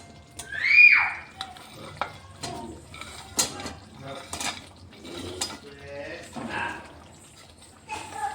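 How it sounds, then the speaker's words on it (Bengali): Fried lentil cakes are stirred into a simmering curry for dhoka dalna, with a spoon scraping and clinking against the pan in irregular bursts under a person's talk. "দেখেন এখন আমি এই ভাজাগুলো এর মধ্যে"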